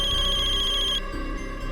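A phone rings late at night after it was switched off, a repeating electronic ringtone that stops abruptly after about a second, leaving a low background hum.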